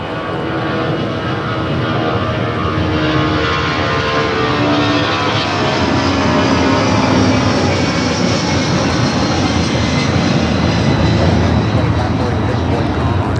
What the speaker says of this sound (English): Delta 757-200, flight 8928 taking off.